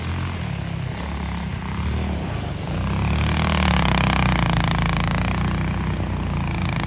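A CFMOTO ATV engine is throttled up outdoors during an ice storm, a steady droning engine roar that swells louder partway through and holds, with no talk over it.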